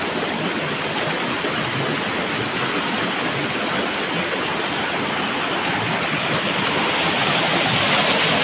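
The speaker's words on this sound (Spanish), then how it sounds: "Este sí tiene bastantita corriente, viene el agua de arriba de lo que es el cerro." Steady, rushing flow of warm water from a hillside stream at a bathing spot in Chiapas, Mexico, a constant loud hiss and churn like a stream tumbling downhill, with no pauses or voices.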